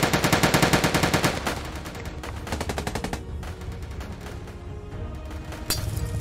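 Rapid machine-gun bursts in a Soviet soldier video game, with loud, close rhythmic rattling at the start, then several shorter volleys and a final sharp burst, with no talking.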